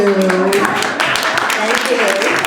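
Clapping at an International Women's Day gathering: a run of sharp, fairly regular claps under ongoing speech.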